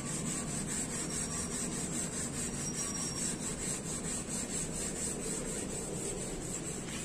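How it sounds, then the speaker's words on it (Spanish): Continuous scratchy rubbing of sandpaper on a hard plastic chair, steady and close, with no speech. "Este proceso de lijado"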